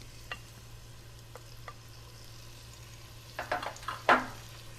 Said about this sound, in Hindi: जब ऑयल गरम हो जाए तो इसमें आपने ये जिंजर गार्लिक पेस्ट था ये डाल देना है।